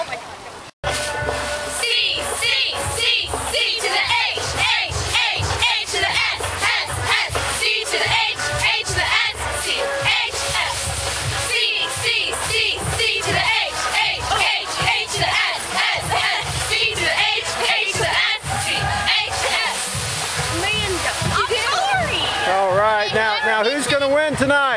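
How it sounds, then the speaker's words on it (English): Cheerleaders perform a cheer at a Catoctin Cougars high school football game, a dense wall of crowd-like yelling and chanting with steady rhythmic shouts that fills the whole span, loud and continuous, with voices rising together toward the end. "They're going to do a little cheer here in a few minutes for us."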